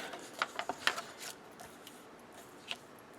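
A paper trimmer slices through planner insert cards sized 3x4 inches, giving a quick run of sharp, close cutting snips early on, then a lone faint snip after a quiet stretch.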